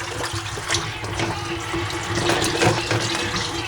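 Water runs steadily from a tap as brine is rinsed off raw turkey legs, a constant close splashing rush over the meat with no talking.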